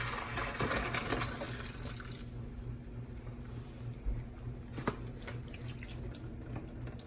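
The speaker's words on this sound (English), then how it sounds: "All right, so the potatoes are done. They're fork tender. So I'm gonna drain them." Boiled russet potatoes being drained in a strainer over a sink, a steady rush of pouring water with splashes and drips, fairly close and continuous, no talking.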